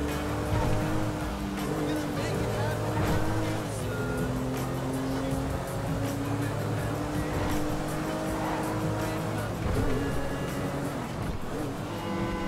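A boat chase in the video game Grand Theft Auto V, with a steady roaring motor drone and rushing water throughout, shifting engine tones as the craft speeds along, under occasional voices.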